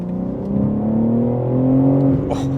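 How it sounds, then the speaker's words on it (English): A 2023 BMW M3 50 Jahre Edition's inline six pulls hard under acceleration, its tone climbing steadily in pitch as the revs build, heard from inside the cabin, loud and smooth, ending in a quick shift blip. "there are power, and it sounds good for an inline six"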